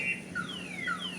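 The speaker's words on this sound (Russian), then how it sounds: "У кого-то сигнализация сработала." A parked car's alarm sounds outdoors among garages on a rainy October day in Yakutsk, with repeated descending electronic chirps at moderate distance.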